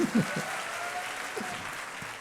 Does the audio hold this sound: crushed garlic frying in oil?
no